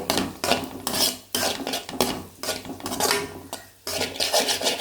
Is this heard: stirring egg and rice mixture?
yes